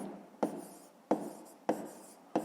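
Pen writing on paper during a fifth-grade maths exercise, four short scratchy strokes spaced about half a second apart, each fading into quiet, close and soft.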